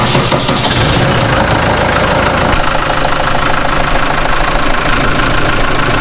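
A tractor's diesel engine idles close by, a loud, continuous knocking rumble with a steady rhythm and no voices.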